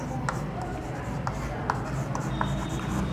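Chalk or marker writing on a board in a classroom, with steady scratchy strokes and small taps running throughout, fairly close and clear.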